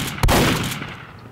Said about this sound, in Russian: Есть дробовик.